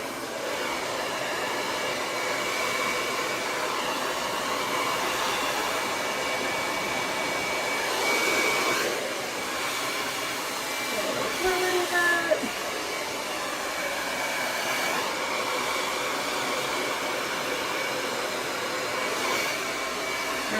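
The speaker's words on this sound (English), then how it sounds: "Remember, keep your dryer moving." A hair dryer blows with a steady, loud whooshing roar during a round-brush blow-dry, continuing throughout, with slight shifts in tone as it moves.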